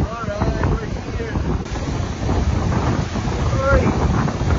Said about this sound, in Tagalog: Malakas lang yung hangin talaga.